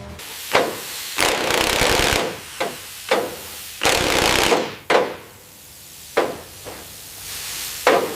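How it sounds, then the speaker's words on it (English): Heavy-duty matte black fender flares are bolted onto a Jeep, with repeated bursts of power-tool rattling and sharp metallic clanks spaced unevenly, close and fairly loud. "Bolting on heavy-duty matte black fender flares to contain the aggressive new rubber."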